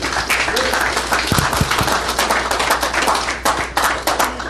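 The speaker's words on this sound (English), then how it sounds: "So a round of applause to all the parents." A council meeting audience claps in a dense, steady burst of applause lasting the whole moment, with a few sharper individual claps standing out up close.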